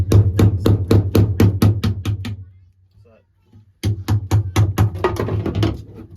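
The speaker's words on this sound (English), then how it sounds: "they're going to just hammer them flat" Rapid, evenly spaced hammer blows ring out close by, flattening car parts, pausing for a couple of seconds before a second burst of strikes.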